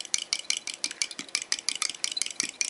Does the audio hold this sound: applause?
no